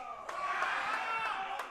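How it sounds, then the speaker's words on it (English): A family in the crowd at a heavyweight women's powerlifting meet cheers and shouts as their lifter comes out, a steady roar of voices from the stands with a few sharp bangs. "you hear her family fire up in the crowd"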